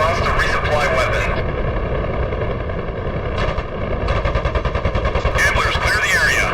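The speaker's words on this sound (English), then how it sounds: "Got a vehicle on the bridge. 50 caliber on board." Rapid bursts of .50 caliber machine gun fire in a combat video game, mounted on a vehicle on a bridge, rattling in quick repeated volleys over a droning aircraft engine, with radio-style voices talking.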